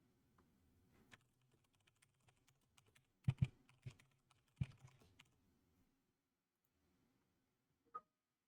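Quiet computer keyboard typing as a domain name is entered on a PC, a loose run of soft key clicks that clusters into a few louder taps, then a pause and one last sharp keystroke.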